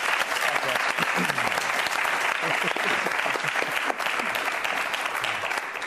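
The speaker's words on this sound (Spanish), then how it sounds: "un aplauso para mi primo" Applause from a studio audience on a Spanish quiz show, honoring a cousin, steady and dense for about six seconds, with a voice speaking briefly over it.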